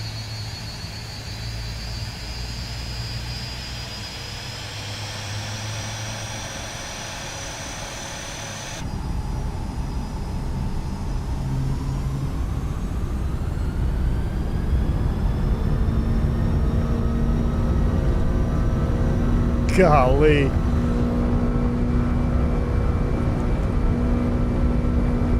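L-1011 TriStar jet engines spool up to near full takeoff thrust in a flight simulator, with a loud rising roar and whine that jumps in volume partway through and holds steady. A brief exclamation is spoken over it.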